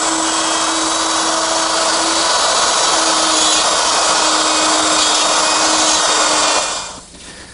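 A power router cuts dovetail pins in the side board of a secretary desk clamped in a dovetail jig, a loud steady high whine with a constant hum running for about seven seconds before cutting off abruptly.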